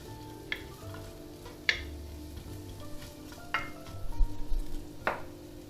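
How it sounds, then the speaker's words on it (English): Onions and garlic sauté in cold-pressed olive oil in a pan, a soft sizzle under intermittent stirring clicks and utensil taps against the pan, fairly quiet and close. "Then we'll add in our onions and garlic and begin our saute."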